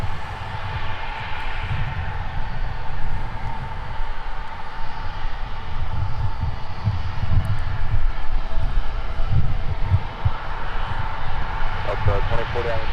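A Boeing 777 freighter taxis at Minneapolis–St. Paul airport, its engines making a steady, loud broadband roar and low rumble throughout, with voices talking over it.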